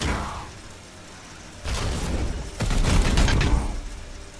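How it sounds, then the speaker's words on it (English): Gunfire in the Warhammer 40k: Chaos Gate - Daemonhunters video game comes as two loud fusillades, a short volley followed by a longer, heavier barrage that fades away, with no voices over it. "Opening fire."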